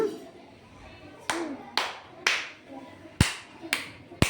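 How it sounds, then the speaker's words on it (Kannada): Six sharp, loud hand claps by children in an irregular rhythm, the first three spaced about half a second apart, then a pause and three more, with faint room noise between them. "ಗುಡ್ ಮಾರ್ನಿಂಗ್ ಚಪ್ಪಾಳೆ ನೋಡೋಣ"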